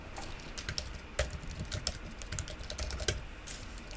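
Rapid, close clicks of typing on a computer keyboard come in uneven bursts of keystrokes, fairly quiet and with no talking.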